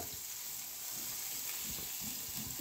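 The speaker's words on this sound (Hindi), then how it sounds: "इधर अभी प्याज फ्राई कर दिया जाएगा" Onions frying in a pan: a continuous bright sizzle with soft crackles and faint stirring underneath, steady and close, with no talk.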